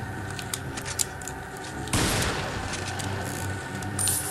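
Gunfire in Resident Evil 4 on PS2 opens with a few scattered sharp reports. A sudden loud, dense burst follows midway and fills the rest with a rough, noisy roar.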